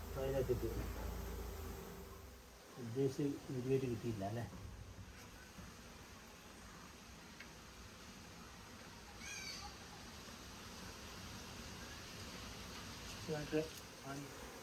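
A soft, continuous buzzing of honeybees being moved into a hive box hums in the background, with a few louder bursts of nearby noise and faint voices early on.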